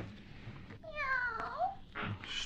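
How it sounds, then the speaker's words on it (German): A cat meows once in a German radio play, a clear rising and falling call at close range, with quiet room background and a brief rustle afterward. "Miau."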